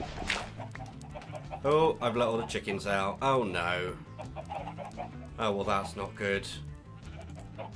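Minecraft-style chicken clucks and squawks mixed with someone talking over them, fairly loud and close throughout.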